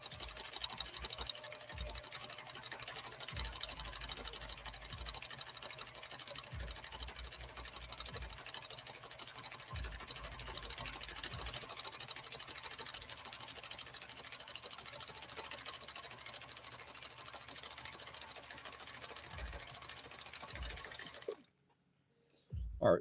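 A 1965 Viking Husqvarna 2000 sewing machine runs steadily through a decorative stitch pattern, a continuous whirring patter with brief low thumps, stopping abruptly near the end.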